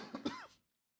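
A single short cough or throat-clear from a man, close and fairly loud, lasting about half a second before the room falls silent.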